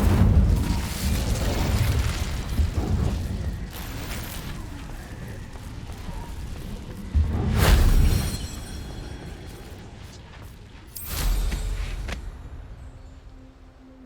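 Incendio fire spell cast in Hogwarts Legacy, heavy booming bursts of flame, a long rumbling blast at the start followed by two more loud whooshing bursts several seconds apart, with steady ambient game noise between.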